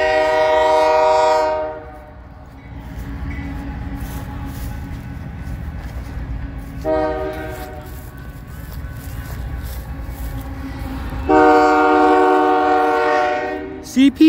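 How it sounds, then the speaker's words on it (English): A train horn blares in long harmonic blasts while a heavy CP freight train of oil tankers with a distributed power unit rumbles steadily past nearby, the horn sounding again loudly near the end. "but we got a freight train coming right now"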